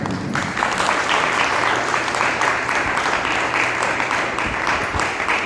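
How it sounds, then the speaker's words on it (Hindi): Steady applause from a large crowd at a public gathering in Kurukshetra, Haryana, fills the whole stretch, dense and even, with no voices rising above it. "आप इनका तालियों से धन्यवाद करते हैं"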